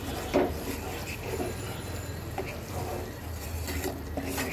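Mashed loitta dried fish with ground cumin being stirred in a pan: close, continuous rubbing and scraping of a spoon over the cooking mash, with a few sharper knocks, no voices.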